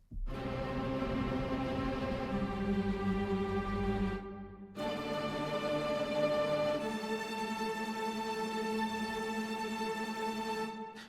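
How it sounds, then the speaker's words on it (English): Cinesamples Vivaldi tremolo strings, players doubled in octaves, sound intense and aggressive: loud sustained trembling chords that cut off briefly, then return and shift to a new pitch partway through. "this one is really nice because it's basically the players playing in octaves"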